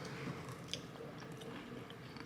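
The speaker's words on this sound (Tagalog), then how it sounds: "Habang inunguya nyo, tingnan nyo." Soft, close chewing of a walnut tart with a crunchy butter and brown sugar crust, steady mouth noises with a crisp bite near the middle, no talking.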